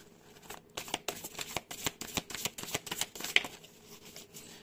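Tarot and oracle cards are shuffled and flicked close up before one card is drawn. The papery riffling ripples along in quick, uneven bursts.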